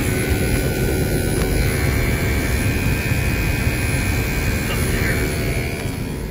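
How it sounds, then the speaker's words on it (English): Condenser fan of a Friedrich hotel HVAC unit with a rotary compressor, installed in a closet, gives a loud, steady broadband whoosh of air that holds constant throughout, with a faint voice underneath. "Has the rotary compressor down there, condenser fan, pushing air out,"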